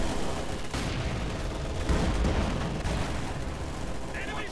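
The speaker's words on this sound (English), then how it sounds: "Mortars barraging." Mortar barrage in Company of Heroes 2, a continuous roar of shell impacts and gunfire rumbling without pause, with a brief whistling sound near the end.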